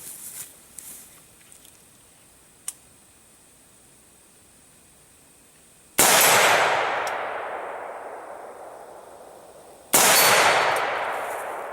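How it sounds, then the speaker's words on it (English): Shots from a Colt LE6920 Magpul Edition AR-15 rifle, fired offhand at a steel target 75 meters away, ring out as two loud, sharp reports about four seconds apart, each trailing off in a long metallic ring and outdoor echo. "Take a few shots at it here with the Magpul backup sights. See if we can make it ring."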